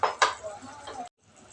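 Clinks and scrapes of a utensil against a pan as tomatoes are added to a spiced koi fish curry, with short clattering bursts followed by softer stirring sounds and a brief pause.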